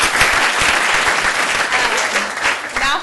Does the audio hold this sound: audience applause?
yes